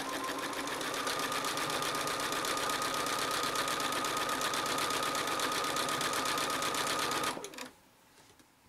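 A sewing machine runs steadily through free machine embroidery on a postcard, a continuous close, even whirring hum of fast stitching that stops abruptly near the end.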